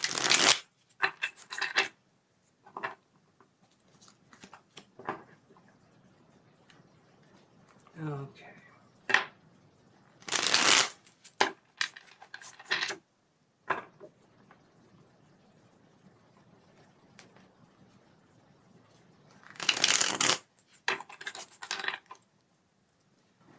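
Several bursts of tarot cards being shuffled, riffled in short flurries with pauses between, alongside faint handling noises and a brief spoken word.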